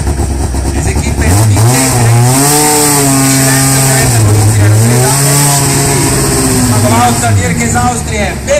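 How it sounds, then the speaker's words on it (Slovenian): Rally car engine at the finish of the 2011 Maribor rally, loud revving with rising and falling pitch sweeps, heard close under an announcer speaking over a PA. "Tukaj je avtomobil štartno številko 2"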